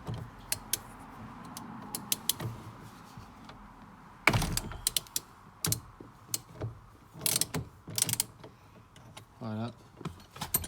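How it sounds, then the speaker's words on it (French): A ratchet wrench fitted with a small socket turns a bolt on a car during airbag warning-light repair work, giving near, crisp, irregular clicking runs with brief pauses and a short whirring spin near the end. "un cliquet avec une petite douille, vous pouvez faire avec ça aussi"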